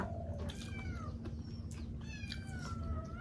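A cat meows several times in a row, with rising and falling cries close by over a low constant hum and no talking.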